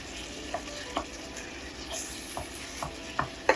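Raw ground beef cooks in a hot pan, giving a continuous close frying sizzle dotted with small irregular pops and crackles that grow slightly sharper toward the end, with no voices.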